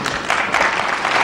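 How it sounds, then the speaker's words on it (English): Applause from a crowd at a 1972 professional wrestling bout between Steve Veidor and Jim Moser, steady dense clapping filling the hall for the whole short stretch, moderately loud with no voices standing out. "deserved applause for both men, especially Moser on that occasion"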